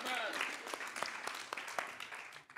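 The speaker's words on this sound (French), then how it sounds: "give the Lord a clap" A church congregation claps for the Lord during a sermon, a dense burst of clapping and cheering that fades over a couple of seconds, with voices mixed into the crowd noise.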